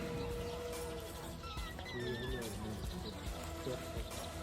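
Nagraj, a stallion on a horse farm, lets out wavering, high neighs amid busy background noise and voices, the whinny rising and falling over a couple of seconds.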